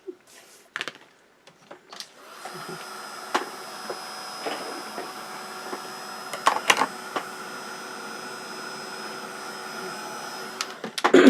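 A heat tool runs as a steady, moderately loud electric whir with a faint tonal whine over a mixed media tag, switching on after a few clicks and knocks and holding for about nine seconds before ending in louder handling noise.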